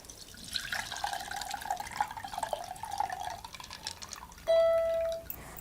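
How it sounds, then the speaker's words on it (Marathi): Water trickles and pours off washed lentils in a container in a soft, steady stream, ending with a short, bright electronic beep. "ह्यातलं आपण सगळं पाणी काढून घेऊया"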